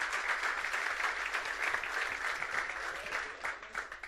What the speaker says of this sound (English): please give these folks, these poor victims, a round of applause